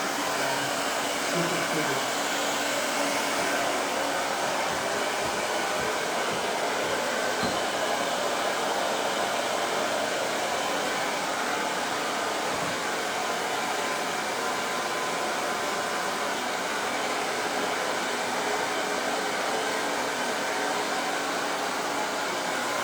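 A hair dryer blows continuously very close to curly hair, a steady loud whooshing hum that never lets up, with no talking.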